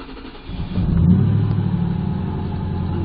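A Ford car engine cranks and catches, then settles into a steady, low idle that runs on evenly to the end.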